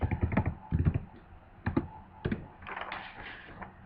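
Quiet typing on a computer keyboard, arriving in short bursts of rapid key clicks separated by brief pauses, close by and fairly soft.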